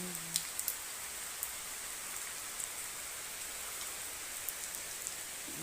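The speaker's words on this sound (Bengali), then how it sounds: "আমাদের এদিকে বৃষ্টি হচ্ছে, দেখুন সব দিকে বৃষ্টি হচ্ছে বন্ধুরা" Steady rain falls on all sides in a rural Bengali setting, a constant soft hiss with occasional sharper drips and patters, moderately near, with no talking.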